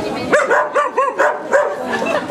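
A guard dog barks in a quick run of sharp, loud, close barks during training after a mock theft, preceded by a brief thump.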